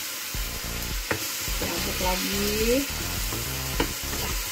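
Chicken feet for bistik ceker sizzle in a frying pan while a spatula scrapes and stirs in repeated knocking strokes, the frying hiss steady and close beneath the clatter.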